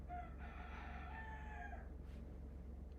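A chicken crows once, a long harmonic call lasting nearly two seconds, close by and fairly loud over a steady low outdoor rumble, followed by a brief soft noise.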